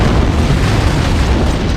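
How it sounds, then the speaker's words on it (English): An antimatter charge detonates aboard a ship in the video game Halo: Combat Evolved, a loud, deep, sustained boom that rumbles on without a break. "It must have been one of their boarding parties. I'd guess an antimatter charge."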